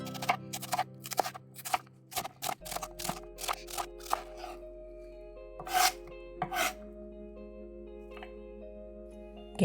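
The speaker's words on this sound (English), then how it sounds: "Get your carrots all peeled up." Carrots are peeled with quick, rasping scrapes in short irregular bursts, close and fairly quiet, with small knocks and clicks between strokes in a kitchen.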